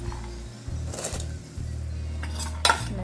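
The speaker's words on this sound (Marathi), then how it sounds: "पाणी उकळले, आता आपण हे डाळ शिजायला टाकू" Lentils are added to a pot of boiling water for raw mango dal, with a few light metallic clinks and clatters of a pot and utensil over a low steady hum.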